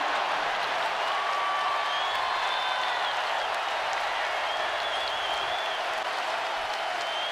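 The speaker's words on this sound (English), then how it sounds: "This is a ruthless crowd" Crowd at a college basketball game in an arena, Iowa State against Iowa, roaring steadily with whistles and shouts cutting through, loud and sustained for about seven seconds.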